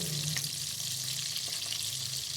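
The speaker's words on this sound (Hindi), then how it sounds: "आपने इनको दोनों तरफ से अच्छे तरीके से फ्राई कर लेना है" Stuffed bitter gourd (karela) sizzles loudly and continuously in hot oil in a pan, a close, dense frying hiss with no voices.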